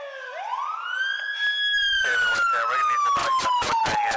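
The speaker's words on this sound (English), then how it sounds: "Hey, turn that siren off." A police car siren winds up in a long rising wail, then sustains a slowly falling tone, with rapid clattering bursts over it, on a San Francisco street.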